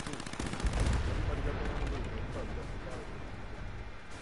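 Sniper rifle fire in Fallout 76, a dense roar of gunfire and explosions that fills the whole moment, loud and close, with people talking over the noise.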